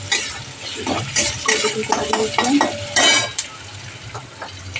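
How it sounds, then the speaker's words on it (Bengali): Onion and chilli fry in a pan with a soft sizzle under busy stirring, as a metal utensil scrapes and clatters against the pan in quick irregular strokes. "একটু পেঁয়াজ লঙ্কা ভাজি"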